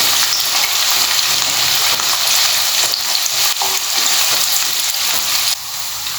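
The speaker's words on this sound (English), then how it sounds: "We will saute the onions till it is nice and translucent." Onions sautéing in a pan for Goan chicken xacuti, a steady loud sizzle and frying hiss running continuously with occasional stirring scrapes, close and without speech.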